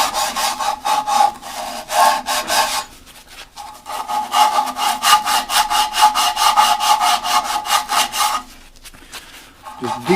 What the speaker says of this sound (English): I'll get my sandpaper and we'll clean it up